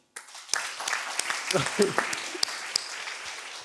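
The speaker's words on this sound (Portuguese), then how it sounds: "Vocês também podem bater palmas." Audience at a live panel talk on democracy and equality breaking into scattered clapping, individual claps audible over a murmuring crowd, moderately loud and building after a brief silence.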